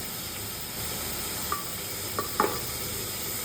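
Grated ginger and garlic fry lightly in a pan with zero oil for chicken soup, giving a steady soft sizzle with a few brief stirring scrapes and clinks near the end.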